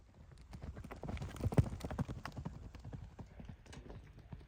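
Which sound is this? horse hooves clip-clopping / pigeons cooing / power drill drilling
horse hooves clip-clopping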